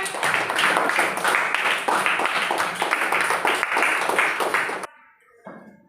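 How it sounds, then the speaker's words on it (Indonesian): A group claps together in a sustained round of applause for several seconds, then it cuts off abruptly, followed by a brief faint sound. "Tepuk tangan."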